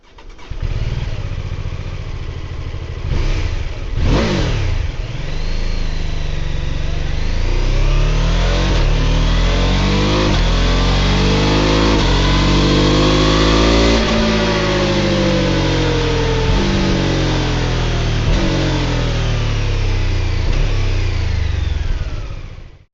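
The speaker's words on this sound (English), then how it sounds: "So I'm just going to play the engine and the exhaust sound here now for you" A BMW F450 GS motorcycle engine and exhaust fire up and rev hard, the note climbing and falling in repeated throttle blips and long sweeping pulls, loud and close with no talking.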